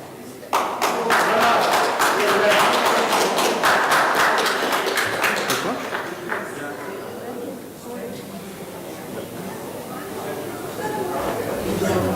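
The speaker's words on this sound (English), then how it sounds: "could we get one random applause for him?" Applause and clapping from a summit audience fill the room for several seconds, dense and fairly loud, then thin out into scattered claps and murmuring chatter as a new guest takes the stage.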